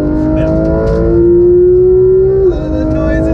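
Porsche 911 GT3 RS engine revving hard on a race track, a loud rising tone that climbs steadily for over a second, then cuts off sharply as the throttle lifts, heard up close from inside the car.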